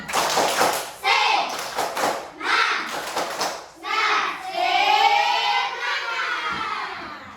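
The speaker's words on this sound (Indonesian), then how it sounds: "Kita tepuk semangat dulu. Tepuk semangat." Schoolchildren in a classroom performing a rhythmic spirit clap, loud, close bursts of clapping and tapping in patterned groups, interleaved with a teacher's and children's chanting voices.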